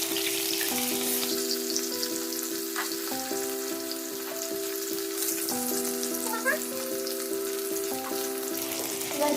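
Chicken pieces for restaurant-style chilli chicken fry in oil in a wok with a steady, close sizzle throughout. A sustained tonal hum runs underneath the sizzle.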